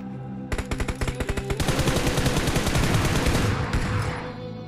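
Rapid bursts of automatic gunfire from a PUBG firefight, loud and close: a string of distinct single shots gives way to a dense sustained burst that fades out near the end, with no talking.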